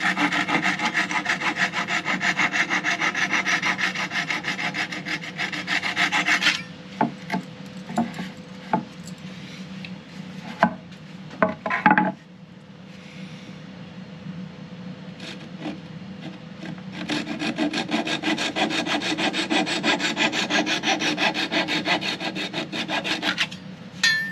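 Steady, loud rasping of a tool cutting and sanding a Strat-style guitar body, broken midway by a stretch of quieter scraping and a few sharp knocks, then the rough grinding resumes.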